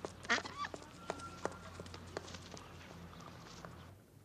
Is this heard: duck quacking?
yes